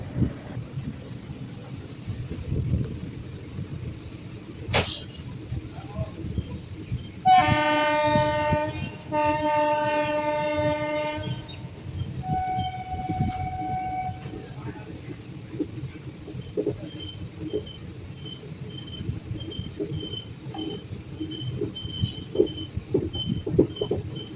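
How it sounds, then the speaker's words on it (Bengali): A train rumbles steadily along the rails, moving slowly and tilted to one side, on the Katwa to Ahmedpur line, with a long, loud two-tone horn blast early on and a fainter horn note after it. "ট্রেনটা দেখুন পুরো ডান দিকে কাত হয়ে চলছে"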